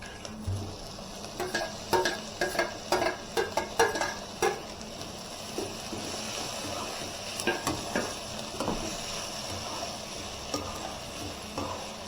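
Tomatoes fry in a pan for semiya upma under a steady sizzle, while a ladle clatters and scrapes in quick bursts early on, then settles into occasional stirs.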